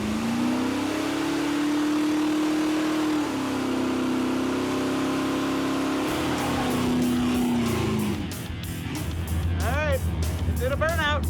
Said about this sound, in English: First burnout with round tires.